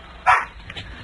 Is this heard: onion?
no